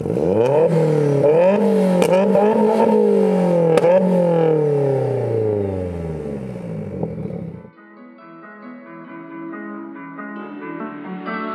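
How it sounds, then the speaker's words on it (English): A forged, big-turbo 480 bhp Seat Leon Cupra R engine revs hard in repeated rising roars, loud and close, then drops to a lower idle hum with some clatter. "the revving, a very natural kind of sound"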